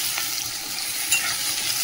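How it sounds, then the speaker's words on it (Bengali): Chopped onion fries in hot oil with a bay leaf, producing a continuous even sizzle close by, with no voices over it. "চলো পেঁয়াজটা ভাজা হোক"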